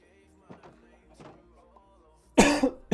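A person coughs in a couple of loud, harsh bursts near the end, after a stretch of quiet throaty sounds and faint background noise.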